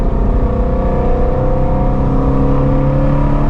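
A Ford Mustang GT350R's engine holds a loud, steady, high-revving drone at around 4,000 RPM, smooth and continuous throughout.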